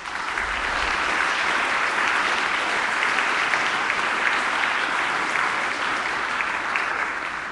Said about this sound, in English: give a hearty round of applause for these 2 young ladies